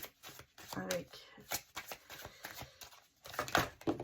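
Tarot cards being shuffled during a reading, a run of quick papery riffles and flicks in short bursts, close and fairly soft, with someone talking quietly over parts of it.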